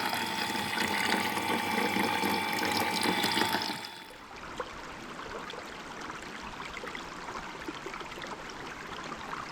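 A pump pushes filtered water out of a hose at a campsite, a loud steady rush and whir for about four seconds that then cuts out, leaving quieter outdoor background.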